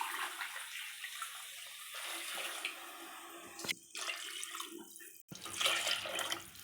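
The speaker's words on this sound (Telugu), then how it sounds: "ఇప్పుడు మనము వాటర్ పోసుకుందాం" Water pours steadily into a cooking pot of fried rice for veg biryani, a continuous splashing rush with two brief breaks before it resumes, close by.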